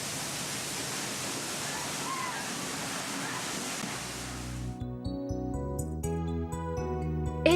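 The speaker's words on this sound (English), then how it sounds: "the skipper can even navigate the bow of the vessel under the larger waterfalls" Tour boat with its bow nosed under a large coastal waterfall: a loud, steady roar of crashing water that cuts off abruptly and gives way to music.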